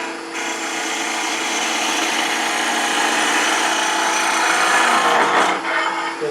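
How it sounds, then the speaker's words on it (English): A skew chisel takes a planing cut on a woodturning lathe, skimming along the top of the spinning wood: a steady, loud, continuous shaving hiss that holds even throughout and ends with a brief drop. "you're taking a planing cut with a skew, where you're skimming along the top."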